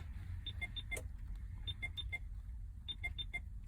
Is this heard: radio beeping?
yes